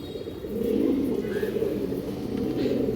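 Pigeons at a breeder's loft coo softly and continuously, a low, murmuring drone that stays at one level with no clear breaks.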